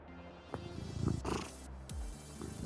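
A cat purrs in a low, continuous rumble, with a couple of brief throaty vocal bursts breaking in midway.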